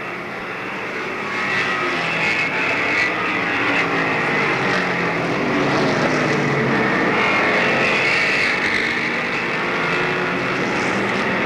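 Race cars roar through their final laps at Monadnock Speedway, a dense distant engine drone that rises and falls as the pack circles, with broad crowd-like noise and no clear voices.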